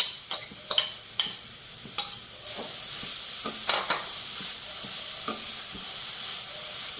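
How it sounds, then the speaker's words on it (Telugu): Grated beetroot fries in ghee with a steady close hiss, broken by irregular clinks and scrapes from stirring, and no one speaks. "ఈ నెయ్యిలోకి ముందుగా మనం బీట్రూట్ వేసుకుందామండి. బీట్రూట్ తురుముకున్నది, ఒక కప్పు బీట్రూట్,"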